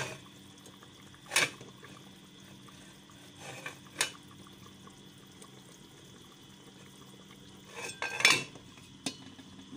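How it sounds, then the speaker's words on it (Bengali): A lid set down over a pot of kosha beef curry, with a few metallic clanks and clatters spaced apart against a quiet kitchen background, close and moderately loud. "মাংসটা আমি ঢাকনা দিয়ে ঢেকে রাখলাম,"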